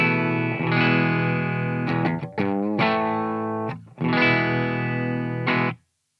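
Electric guitar played on the bridge pickup through an amp set at slight breakup with a long reverb, ringing sustained chords and single notes in several loud phrases with short gaps between them, no talking.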